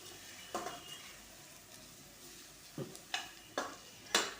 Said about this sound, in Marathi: आता यामध्ये आपण चवीसाठी मीठ घालून घेणार आहोत. आणि हे व्यवस्थित आपल्याला परतून घ्यायचं आहे